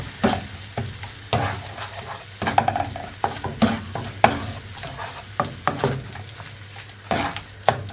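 A spoon works through thick bread masala gravy in a pan, with irregular scraping knocks and clatters repeating steadily over a low frying sizzle, close and fairly loud.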